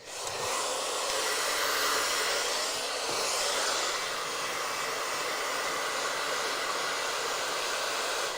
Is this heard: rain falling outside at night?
no